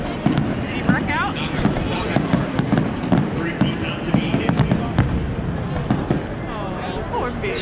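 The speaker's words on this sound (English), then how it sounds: "That's a lot of fireworks." Fireworks at the Daytona 500 race, a long run of sharp pops and cracks bursting at irregular intervals, mixed with crowd noise and people talking nearby.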